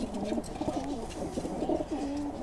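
Pigeons cooing in a loft, several overlapping soft low coos close by, steady and continuous with no talk.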